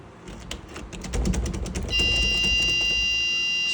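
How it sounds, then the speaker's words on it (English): A door vibration intrusion alarm reacts to a door being forced: a run of sharp knocks and rattles, then a loud, piercing, continuous electronic buzzer tone that starts suddenly and holds steady close by. "as you can see and hear, the buzzer is very loud"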